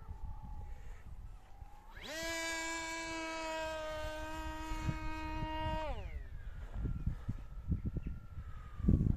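Motor and propeller of a model flying wing aircraft on a field test, a loud steady droning buzz that rises abruptly, holds for about four seconds, then cuts off as it glides, with wind and handling noise around it.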